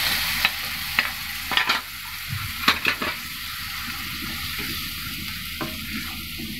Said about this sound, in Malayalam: നമ്മളെ വെളിച്ചെണ്ണ വറവിട്ടതിലേക്ക് ഞാൻ അങ്ങ് ഒഴിച്ചു കൊടുക്കുകയാണ്